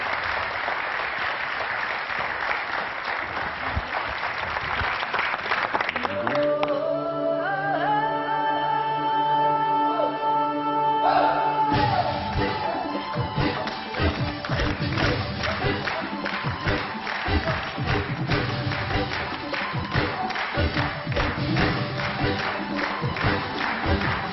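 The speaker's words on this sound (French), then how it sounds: "On va les applaudir très fort, les bravo." A studio audience on a French television show applauds performers in a long, dense ovation, and a stretch of music sounds through the middle of it.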